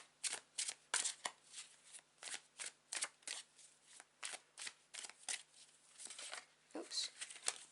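Tarot cards are shuffled close by in a quick run of about twenty crisp riffling bursts in an uneven rhythm, on a quiet background.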